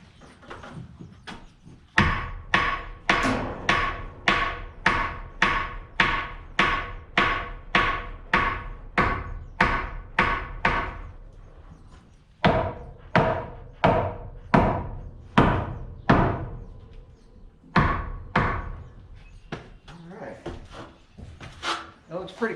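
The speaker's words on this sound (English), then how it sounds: "got my trusty hammer, and go ahead and drive that thing in there." Hammer driving a nail into wood while building a horse stall: two runs of sharp, evenly spaced strikes, about a dozen in quick succession, then a brief pause and several more blows, loud and close.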